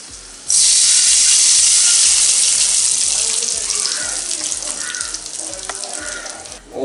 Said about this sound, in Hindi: और ये तड़का ऊपर से लगा देंगे।